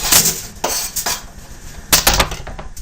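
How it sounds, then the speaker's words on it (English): Cut onion tipped onto a metal tray for tandoori chicken with onions and sweet peppers, giving a few loud, close clattering clinks in quick bursts with no talking. "Cut up onion onto the tray."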